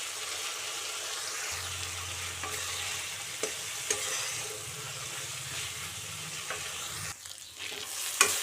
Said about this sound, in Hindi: एबे याको आउ किछि समय पई भाजीबा।